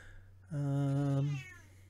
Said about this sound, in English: Less meowing.